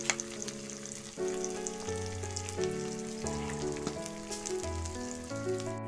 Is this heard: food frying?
yes